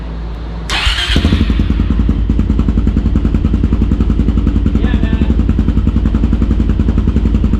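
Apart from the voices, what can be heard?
quad engine starting and idling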